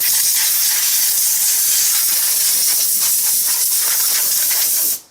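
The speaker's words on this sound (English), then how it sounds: "you can get in behind the radiator and blow all that out too" A compressed air blower with an extra-long nozzle blasts debris out from behind a lawn mower radiator, a loud, steady close-up hiss of rushing air that holds for about five seconds before cutting off.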